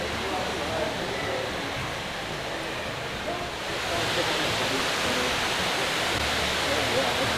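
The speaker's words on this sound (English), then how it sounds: "Now we're going to the waterfall here." The indoor waterfall at Cloud Forest, Gardens by the Bay, pours as a constant dense rushing hiss, close and steady, swelling a little louder partway through.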